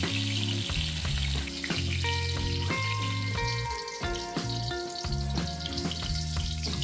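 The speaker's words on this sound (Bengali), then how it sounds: "তেল ভালোভাবে গরম হলে ম্যারিনেট করে রাখা বেগুনগুলো তেলেতে দিয়ে দেব" Marinated eggplant slices hit hot mustard oil in a wok for a Bengali doi begun, giving a loud, continuous sizzle and crackle that holds steady throughout, close up and with no talking.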